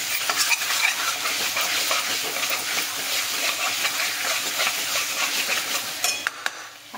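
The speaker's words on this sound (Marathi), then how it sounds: "आता हे चांगलं परतून घे." Pav bhaji masala with chili powder, coriander powder and onion masala sautéing in a pan, giving a steady close sizzle with scraping stirs throughout and a few utensil clinks near the end.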